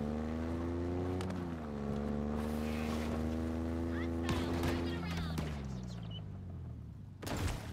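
A vehicle engine drones steadily in the Halo Infinite game, its pitch rising and falling with the throttle, loud and continuous alongside gunfire bursts and other game sounds.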